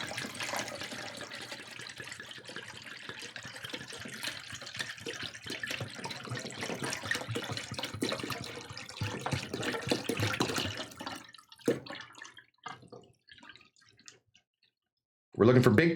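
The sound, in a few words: liquid being poured slowly while making curds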